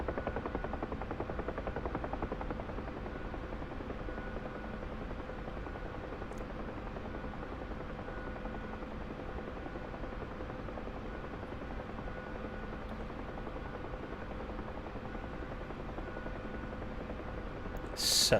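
A helicopter flying low over power lines in the DCS flight simulator, a steady, even rotor drone and engine whine holding close throughout, with no talking.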